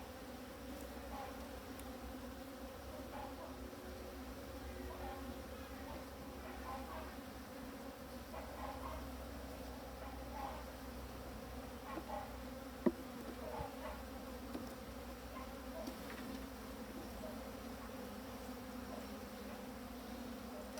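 A continuous, dense hum of many honeybees buzzing close by in a drone-laying hive with many drones, steady and moderately faint throughout, with occasional brief louder passes.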